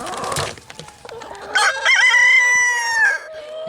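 A rooster crows loudly and close by among clucking backyard chickens, a long drawn-out crow in the second half following shorter clucks and squawks.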